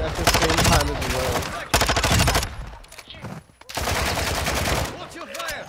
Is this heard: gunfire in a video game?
yes